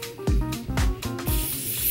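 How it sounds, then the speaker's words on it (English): An aerosol spray is applied onto a wig in four quick hissing bursts, close and fairly loud, then a longer continuous spray at the end, with no talking. "We're gonna take our even spray."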